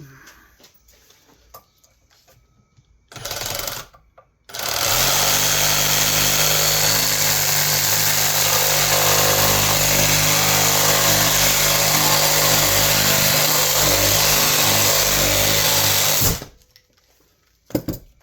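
A battery-powered saw whirs up after a brief start, then cuts steadily through the plastic scupper of a Lifetime Manta kayak for about twelve seconds in a loud, close, constant buzzing drone before stopping.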